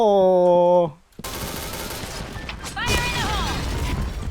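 Jackhammer automatic shotgun firing in the PUBG battle game, a burst of sharp rapid blasts with rattling tails following a short tone, with a player's voice cutting in briefly near the end.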